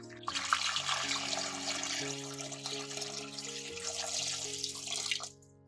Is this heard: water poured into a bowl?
yes